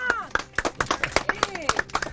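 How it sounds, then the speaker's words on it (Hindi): Quick, uneven hand claps from a few people close by, mixed with voices talking and calling out over them. "तालियां भाई, तालियां"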